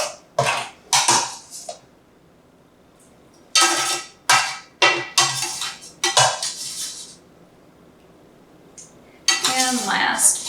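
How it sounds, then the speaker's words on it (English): Cooked pork pieces for green chili posole clatter into a pan over celery and onion, a series of sharp metallic clinks and scrapes of utensil against pan in irregular bursts with quiet gaps between. "I'm going to transfer all the pieces onto your celery and your onion"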